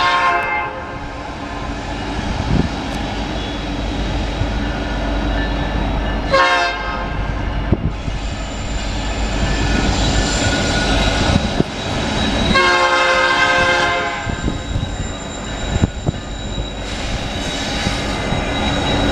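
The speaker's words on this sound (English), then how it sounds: "What kind of horn does this train have?" A loud Norfolk Southern freight train horn blasts repeatedly over the steady rumble of passing coal cars, with a couple of longer pulls near the end.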